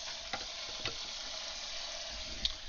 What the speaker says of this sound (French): je vais vraiment bien l'arroser d'eau froide